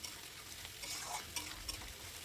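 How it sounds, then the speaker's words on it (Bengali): Ground spice paste stirred and fried in a wok while mutton is cooked with papaya, giving a steady close sizzle with soft scraping strokes throughout and no talk. "আর ভালো করে নাড়াচাড়া করতে হবে যাতে মশলাটা কড়াইয়ে লেগে না যায়"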